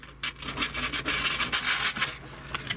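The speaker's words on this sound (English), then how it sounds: "I'm going to take a piece of my 220 grit sandpaper" Hand sanding with 220 grit sandpaper on a SeaDoo hull area before mounting a Garmin transducer: quick, close back-and-forth rubbing strokes in an uneven rhythm, with no voice.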